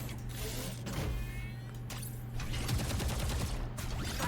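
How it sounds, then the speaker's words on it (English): Rapid gunfire from a racing video game as a mine is shot, a dense continuous burst of shots over mechanical game noise, loud throughout. "We're going to shoot the mine."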